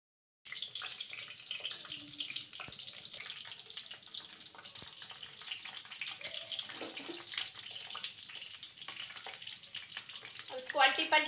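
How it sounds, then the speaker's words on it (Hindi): Corn cobs fry in very hot oil in a wok over a full gas flame, giving a steady, close, crackling sizzle that rises slightly toward the end. "भुट्टा को फ्राई करेंगे"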